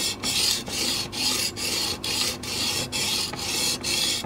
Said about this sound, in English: wet and dry sandpaper just on a block and use that dry, then use wood, then use it wet